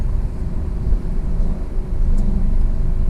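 Steady, loud road traffic at midday, cars and engines rumbling past continuously nearby with no clear gaps.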